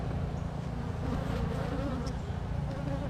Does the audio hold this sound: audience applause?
no